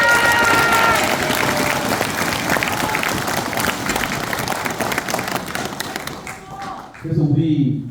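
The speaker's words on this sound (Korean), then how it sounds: "박수 한번 부탁드립니다" Audience applause at a party members' training rally, a dense crowd clapping loudly and steadily for several seconds before thinning out, with voices rising near the end.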